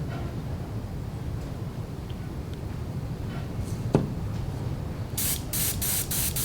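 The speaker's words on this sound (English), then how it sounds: "Always test your gun before you start to spray on your bait." Airbrush spray gun test-spraying a few drops of Celestial Azure paint before coating a fishing bait, a steady soft hiss of air and spray with a brief tap, then a few louder short bursts at the end.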